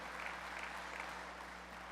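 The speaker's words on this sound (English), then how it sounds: "Let's give them a big round of applause." A faint, distant round of applause from a conference audience at a general session, dense and even, heard through a low steady hum.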